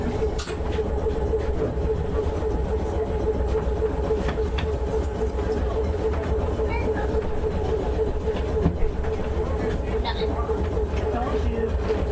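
A crowded museum trolley train at the Shoreline Trolley Museum rumbles steadily along its rails with a sustained hum and clatter, while passengers murmur and talk faintly throughout.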